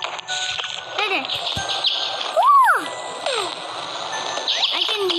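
Cartoonish bird chirps from the video game Boku Boku, a few rising and falling tweets with one louder swooping call midway, over busy game sounds and background chatter.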